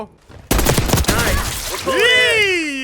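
A KSV Infestation submachine gun firing in a Call of Duty video game: a brief, loud, rapid burst of shots up close, followed by someone talking.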